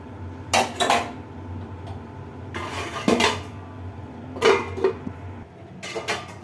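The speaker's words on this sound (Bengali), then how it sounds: "এই যে লাউ চিংড়ি রান্না হচ্ছে" Bottle gourd cooking with prawns in a pot, several clusters of sharp metallic clatter as a utensil strikes and scrapes the pot, separated by a low background hum, close and with no talking.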